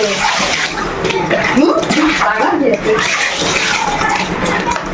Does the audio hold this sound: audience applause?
no